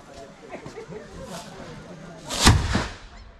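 Traditional guns are fired at a Limbu wedding, with one sharp, loud blast cracking out near the end amid background chatter and talk.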